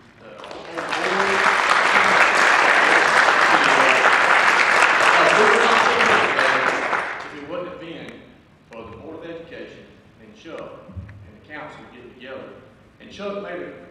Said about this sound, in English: I just really want to put a round of applause